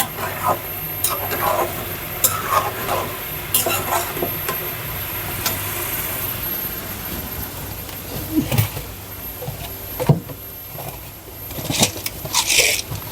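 Spices with bay leaf, cinnamon and cardamom are sautéed in a pan, a low sizzle running under repeated sharp clinks and scrapes of a spatula against the pan.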